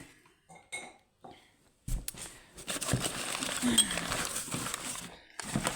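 Dishes, including gilded crockery, clink and clatter nearby as items are unpacked and set down, a busy run of rattling contacts after a few soft bumps.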